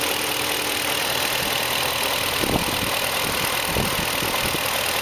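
A BMW E38 idles steadily just after new Bosch Platinum 4 spark plugs went in, a smooth, constant engine hum heard up close with a faint high whine from the secondary air pump running throughout.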